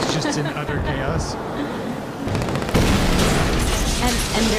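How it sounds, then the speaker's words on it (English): C4 charges detonating in the video game Ghost Recon Wildlands, a pair of heavy booming blasts about two and a half seconds in that give way to sustained rumbling chaos, with someone talking over the game audio. "then we blow the C4 that we placed earlier, just to add that extra layer of distraction"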